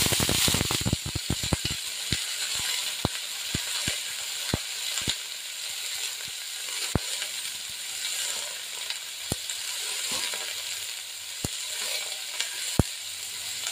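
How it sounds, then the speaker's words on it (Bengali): Diced potatoes sizzle in hot oil in a pan after ginger has been fried, a steady close hiss broken by sharp clicks and taps of a spatula stirring, with no voices. "আদাটা ভাজা হয়ে গেছে, আলুটা দিয়ে দিলাম।"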